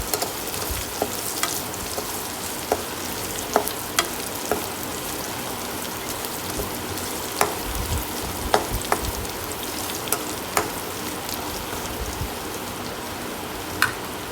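Ingredients for mango pachadi sauté in a pan with a steady, even hiss, broken by scattered sharp pops of spattering oil throughout.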